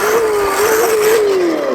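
A lifted Chevrolet Blazer 4x4 puller truck with oversized tires revs its engine loudly and close by, holding a steady drone that rises slightly and then falls away.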